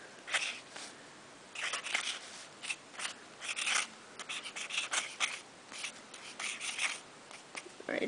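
A bright graffiti paint marker writes on a surface, close and soft, with short scratchy strokes in an uneven rhythm and brief pauses between letters.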